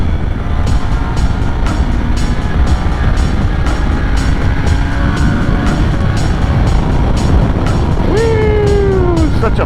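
Kawasaki Ninja 400 motorcycle being ridden: a loud, continuous engine drone with heavy wind roar throughout, rising in pitch near the end as the rider accelerates.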